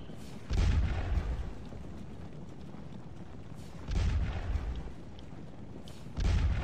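Artillery guns fire in the Napoleonic battle game Scourge of War: Les Cent Jours, three heavy low booms spaced a few seconds apart over a steady battlefield rumble, loud and close with no talk.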